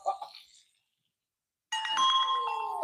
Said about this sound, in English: We might need an external bell.